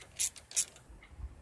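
A ratchet tightens the intake bolts on the carburetor of a 2009 John Deere 100 Series mower with a 19.5 HP engine, making two short, crisp clicking bursts close by, then quiet handling noises.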